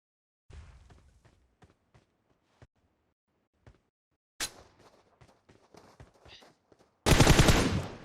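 Scattered single gunshots echo sparsely in PUBG Mobile, then a sharp burst, ending in a loud, dense rattle of rapid automatic fire.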